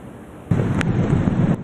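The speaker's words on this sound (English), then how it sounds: "Tumultuous waves hammering Florida beaches, serious erosion" Tumultuous waves pound a Florida beach during Hurricane Sandy, and a heavy surge of surf and wind roar breaks in suddenly and stays loud and rough, with gusts buffeting the microphone.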